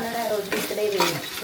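Ginger garlic paste fries in a deep cooker pot while being stirred, a close steady sizzle with a couple of scraping stirs.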